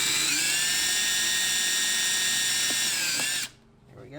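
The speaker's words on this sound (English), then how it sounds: "I figure it's easier to use the drill just because I don't want to booger up, you know, this nice fiberglass" A power drill whines at a steady high pitch for about three and a half seconds while boring out a broken BMW E90 door handle, then stops abruptly, leaving faint clicks.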